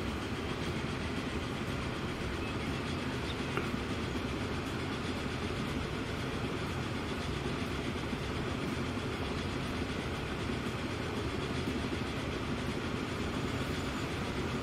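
Rail traffic in Transport Fever 2 with the Mallard locomotive in service: a constant, close rolling rumble of wheels on track with light rhythmic clatter, steady throughout and free of speech.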